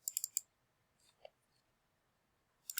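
A computer mouse gives a quick burst of four crisp clicks, then after a near-silent pause two more clicks, all quiet and close.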